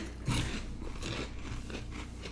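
Someone crunches onion-flavored snacks right next to a microphone. The crisp bites are loud and close, set against a steady background hiss.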